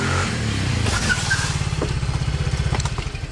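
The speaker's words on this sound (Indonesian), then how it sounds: "Motor siapa nih?" A motorcycle engine idles in a repair workshop, its steady, close, loud rhythmic pulsing running throughout with no talk over it.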